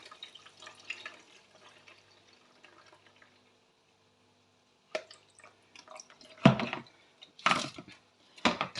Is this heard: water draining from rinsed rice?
yes